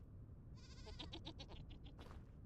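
Goats in the video game Vintage Story give a quick run of bleats, one wavering, nasal call after another, clear and fairly close over a soft rustling background, then fall silent.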